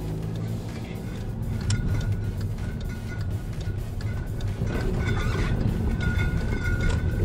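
Inside a moving Skoda Superb estate driving toward a test ground on a rough field road, a continuous rumble of road and engine noise fills the cabin, with knocks and rattles from the running gear.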